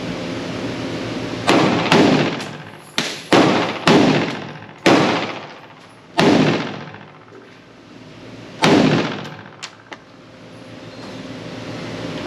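Ruger Mini-14 rifle in .556 fired outdoors: about eight sharp, loud cracks in an irregular rhythm, each followed by a short decaying echo, with no voices.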